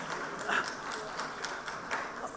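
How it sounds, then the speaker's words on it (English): Audience at a retail leadership summit applauds, a soft, fairly distant patter of clapping hands with a few sharper individual claps standing out. "A big round of applause to all of us."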